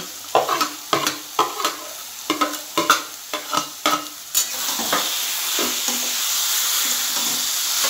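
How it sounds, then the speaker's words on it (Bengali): Fish head pieces being sautéed with greens and chickpeas in a pan: sharp rhythmic stirring scrapes over a sizzle that swells into a loud continuous hiss of frying. "মাছের মাথা দিয়ে ভালো করে এবার আমি এটা কষিয়ে নেব"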